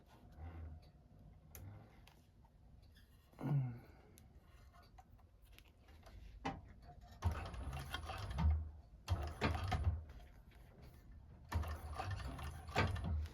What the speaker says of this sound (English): Back stitch, hold your threads, pull the seam towards the bottom of the gusset